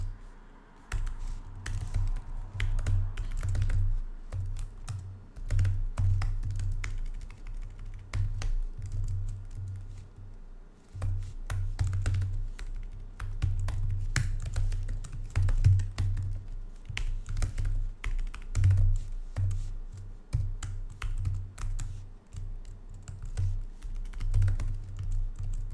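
Fast, steady typing on a computer keyboard while writing code for a programming contest, with dense clicking keystrokes close to the microphone, brief pauses, and a low hum beneath.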